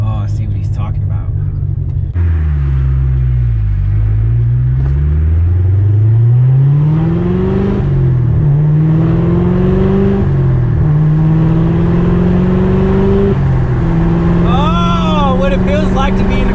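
Chevrolet Corvette Z06 engine pulling through the gears while driving, its loud droning note rising, dropping at each shift and climbing again without pause for the whole stretch.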